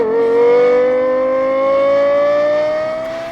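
Lexus LFA with its 1LR-GUE engine, a loud close revving wail that climbs smoothly and steadily in pitch, one sustained run with no talking.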